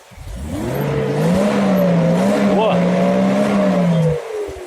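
A 1995 Mercedes-Benz W124 with a 2.8-litre petrol engine, revved up close in one long sustained pull. The tone climbs, holds with small wavers and a quick blip near the end, then drops back to idle.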